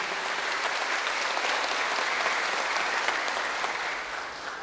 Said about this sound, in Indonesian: marilah kita berikan tepuk tangan buat pasangan calon kita pada hari ini